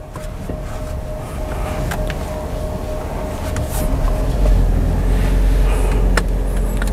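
A Toyota Innova Zenix G hybrid accelerating, heard from inside as a steady rising rumble of engine and road noise that swells slightly as speed builds, with no talk.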